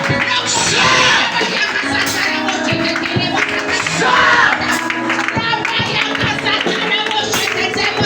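A church congregation at a French-language worship service cheers and acclaims in a loud, dense wash of voices, with shouts and scattered clapping running steadily throughout.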